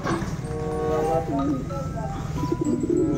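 Pigeons coo in low, warbling calls nearby while a person talks over them against a busy background.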